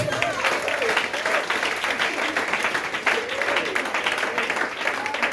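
A church congregation claps and applauds steadily throughout, a dense, continuous wash of many hands, with a voice speaking over the applause.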